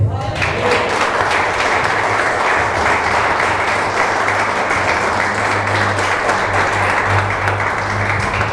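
Church congregation applauding at a service, loud dense clapping that continues evenly throughout with a crowd murmur mixed in.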